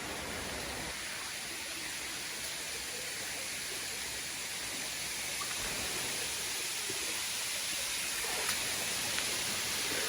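Julbala Falls, a tall waterfall on a feeder creek of the Albert River in Lamington rainforest, gives a steady, faint hiss of falling water with no change in level.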